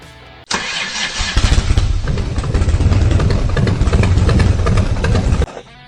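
A motorcycle engine cranks and starts, then idles and revs steadily at close range for several seconds before cutting off, with no talking.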